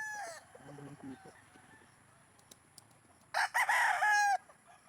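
Roosters and chickens on a gamefowl farm cluck softly at first, then a loud nearby crow rings out near the end, with faint chick peeping and no speech.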